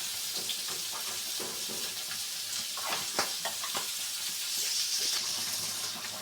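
Sliced onions dropped into hot oil in a pan, a broad steady sizzle and hiss with a few crackling bursts, close and alone without voices.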